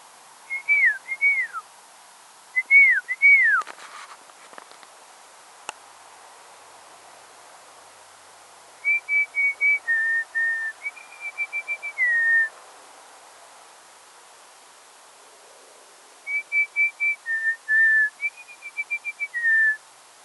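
A person whistles to mimic wild bird calls: clear, tuneful phrases of rising and falling notes, first short looping trills, then two longer runs of repeated chirping tones, loud and close against a quiet background.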